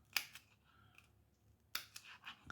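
Scissors snip through a strip of false eyelashes while customizing them, giving two sharp, close, quiet cuts about a second and a half apart, each followed by a faint rustle.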